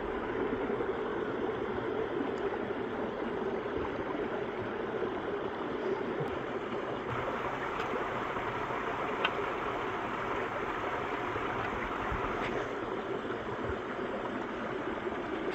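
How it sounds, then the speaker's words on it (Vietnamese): Forest stream after days of rain flowing nearby, a steady, even rush of water that stays constant for the whole stretch, with no one speaking. "Bên cạnh suối nước hơi ồn một tí"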